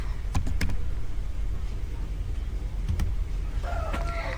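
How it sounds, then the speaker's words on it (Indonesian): Keys clatter on a computer keyboard as a command is typed, a few quick clustered clicks near the start and another pair near three seconds over a steady background hum, fairly close and moderately loud. "Dari sini kita akan coba untuk ketikkan conf"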